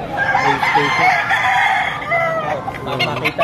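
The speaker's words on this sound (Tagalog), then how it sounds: "Maganda. Malaking manok." A large rooster crows loudly and clucks at close range, with a brief trailing cluck near the end and little other sound around it.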